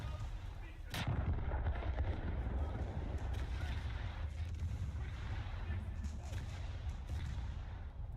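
Naval gunfire in War Thunder, one sharp heavy cannon blast early, then a rumbling sea and engine bed with fainter distant thuds and booms.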